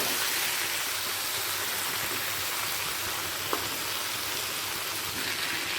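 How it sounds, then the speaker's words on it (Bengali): Potatoes and pointed gourd frying in a covered pan, a steady even sizzle that holds unbroken and close, with one faint clink partway through. "দেখুন সুন্দর ভাজতে ভাজতে সেদ্ধটাও একই সাথে হয়ে যাচ্ছে"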